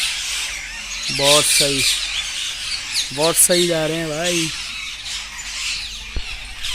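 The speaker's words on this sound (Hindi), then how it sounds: "लेकिन यहाँ पे तोते चिड़िया सब चहचहा रही हैं।" Parrots squawking in a village on a morning during Diwali, several harsh, rising calls in quick bursts near the listener, with a voice briefly speaking between them.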